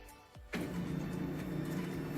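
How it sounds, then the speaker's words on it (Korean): A Kyocera copier starts up with a brief whir, then runs a test print as a steady mechanical hum with faint rhythmic clicking, close and without voices. "그러면 한번 작동이 되는지 출력을 해보도록 하겠습니다"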